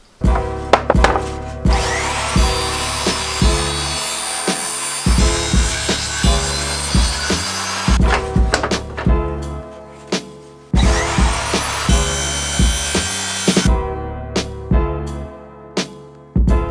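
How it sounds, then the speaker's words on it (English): Rhythmic hand sawing through pieces of used wood for a van build, loud and close, with repeated back-and-forth strokes broken by short pauses. "So cutting out, sanding some pieces and cutting them out."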